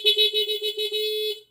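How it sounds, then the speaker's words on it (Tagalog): Stock horn of a 2024 Yamaha Aerox v2 scooter beeping in a rapid series of short, close, buzzy honks that ends in one slightly longer blast before cutting off. "Then, busina tayo. Ito yung busina. Stock muna."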